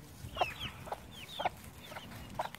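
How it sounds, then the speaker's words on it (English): A mother hen clucks softly among her baby chicks in a hot Deep South Texas garden, with several short clucks and high chick peeps spaced through the clip over a low background hum. "So here is my mother hen and her baby chicks."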